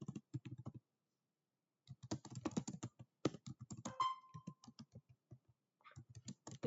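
Code being typed on a computer keyboard, quick bursts of key clicks with short pauses between them, close and clear with no voices.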